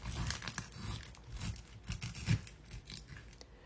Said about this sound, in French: Je reprends donc mon ananas et je vais le couper.